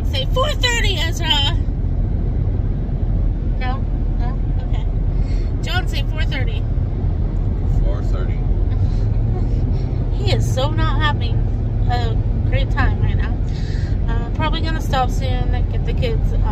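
A car cruising along a road in the early morning on a family trip to Long Beach, a steady low engine and road rumble throughout, with adults and children chatting over it.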